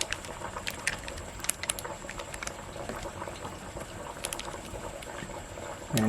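Homemade goat-mutton vada dropped into hot oil, a quiet, steady bubbling and fizzing sizzle that swells slightly near the end.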